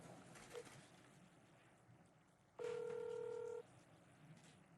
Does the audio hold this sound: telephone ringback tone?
yes